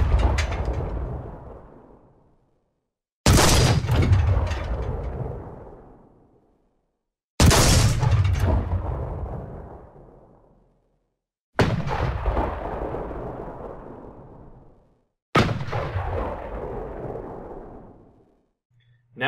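Tank cannon firing in War Thunder, a 7.5 cm KwK 40 main gun as used on Panzer IV and StuG III: five loud, sharp booms spaced about four seconds apart, each trailing off in a long decaying rumble.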